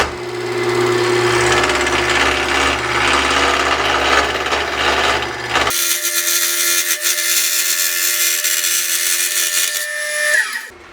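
A Vega duplicator lathe turning wood into French rolling pins: a loud continuous whir and grinding hum of the spinning workpiece and cutter, shifting abruptly to a thinner, higher-pitched cutting whine halfway through, near and alone.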